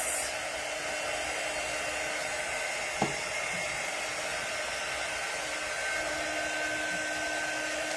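A hair dryer runs steadily and loudly from start to finish, drying paint on a wooden farmhouse sign, with one brief knock partway through.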